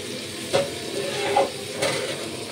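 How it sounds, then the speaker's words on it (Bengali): Onions sizzle steadily in a hot pan, with a few soft clinks of a utensil stirring them; no voices. "পেঁয়াজটাকে ভালো করে ভেজে নেব।"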